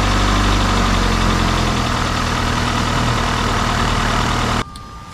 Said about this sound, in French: on a pu voir que le moteur il a bien démarré